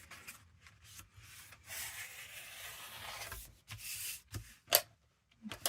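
A bone folder rubs firmly over a glued pocket made from a vintage book page, giving a close, dry scraping rub in steady strokes, then a few short taps and scuffs near the end.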